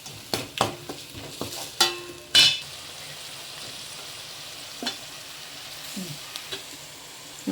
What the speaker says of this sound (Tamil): கருவேப்பிலை கொஞ்சம் போட்டுக்கலாம் இது நல்லா வதங்கட்டும்